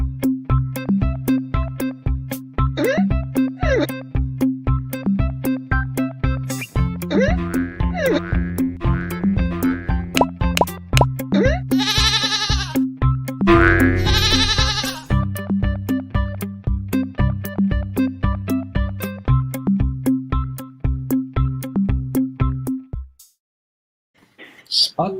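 Upbeat podcast intro jingle for Spot the Goat, a repeating synth melody with bouncy tonal accents and a bleating, goat-like burst midway, playing alone for about 23 seconds before fading.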